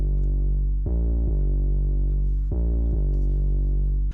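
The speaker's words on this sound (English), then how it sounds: "The 808 follows a very simple pattern with the bass notes and the fifth of the chords" A deep, loud, distorted 808 bass made with FL Studio stock plugins holds long sustained notes on the chord roots and fifths, shifting pitch in a simple repeating pattern with sliding transitions.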